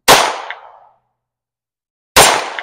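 Two sharp pistol shots from a Beretta M9 .22 caliber fired at small targets on a range, each a loud crack with a short decaying ring, spaced about two seconds apart with silence between.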